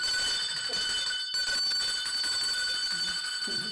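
A bell rung at a prize-giving, a sustained bright metallic ringing that holds steady across the whole stretch, with a brief dip just past a second in, and faint background noise beneath.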